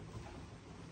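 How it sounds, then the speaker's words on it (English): Steady, faint hiss of rain falling outside, a continuous broadband wash with a low rumble underneath and no voices. "You might be able to hear the rain outside."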